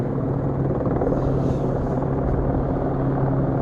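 A commercial helicopter hovers overhead, its rotor and engine producing a loud, steady, unbroken drone that continues throughout without any talk.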